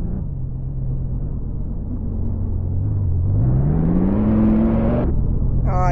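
A car engine in a Roblox game idles low, then revs upward in a smooth rising sweep before cutting off abruptly, close and steady with no talking.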